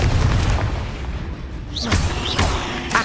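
A Confringo fire spell blasts in Hogwarts Legacy, with a loud rumbling boom and crackling bursts at the start. A fainter second blast follows partway through, with no speech.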